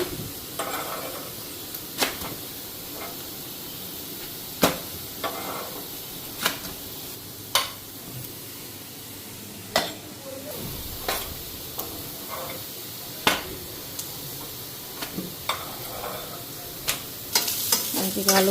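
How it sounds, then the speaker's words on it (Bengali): Rotis fry in a pan with a soft continuous sizzle, punctuated by frequent sharp clicks and scrapes of a spatula turning them, close and moderately quiet. "এদিকে রুটিগুলি ভেজে নিতেছি"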